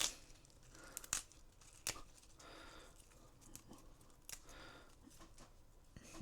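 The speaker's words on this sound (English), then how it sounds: "take your kale and you're going to get the leaves off and kind of just rip off the leaves from the stem" Kale leaves being ripped by hand from their stems: a run of short, crisp tearing rips and crinkles at irregular intervals, close and fairly soft, with no one speaking.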